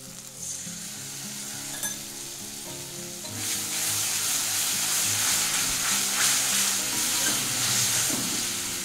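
Masala frying in a pan with whisked sour yogurt stirred in for a matar mushroom curry: a steady loud sizzle that swells and stays dense after the yogurt goes in, with stirring and no talking.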